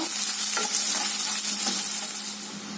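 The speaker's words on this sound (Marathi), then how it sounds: "आता कांदा घालूया आपण आणि हा चांगला परतून घेऊया नरम होईपर्यंत." Chopped onion sautéing in a pan for a spicy Maharashtrian cluster-bean curry, a continuous close sizzle with several soft scrapes and taps of a stirring spoon.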